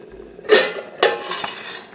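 A lid lifts off a pot of simmering sardine curry with two close, sharp metallic clinks about half a second apart, followed by softer rattles.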